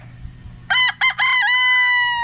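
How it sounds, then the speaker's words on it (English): A rooster crows loudly and close inside a chicken coop, one full cock-a-doodle-doo with a broken start and a long held ending, over quiet background clucking. "Oh, there's the smaller chickens."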